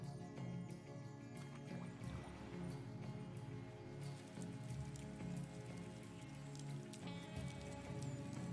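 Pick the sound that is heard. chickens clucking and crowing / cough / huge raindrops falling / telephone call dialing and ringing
huge raindrops falling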